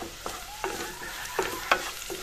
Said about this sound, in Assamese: এইখিনি এনেদৰে অলপ লৰাই দিছোঁ মছলাখিনি